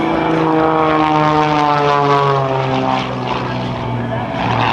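An aerobatic propeller airplane performs an eight-point hesitation roll at a military open house air show, its engine droning steadily with a shifting pitch, while an announcer talks over it.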